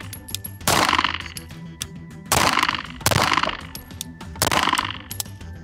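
Pistol shots crack at a target range in sharp, loud reports, roughly four spaced bursts with metallic ringing tails and echo between them, close and with no talking.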